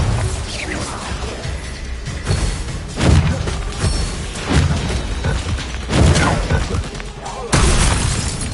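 Repeated Bombarda spell explosions in the Hogwarts Legacy video game: a string of loud crashing booms with shattering debris arriving every second or two over roughly eight seconds, with a busy mechanical clatter of combat between blasts.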